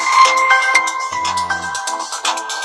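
Ringtone melody from the rear speaker of a Nokia 1 Plus budget phone, a bright, close, tinny sequence of beeping tones playing continuously with no talk.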